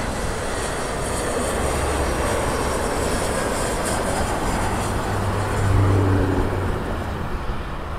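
A jet takes off at Los Angeles International Airport, a steady broadband roar heard at a distance that swells briefly partway through before easing.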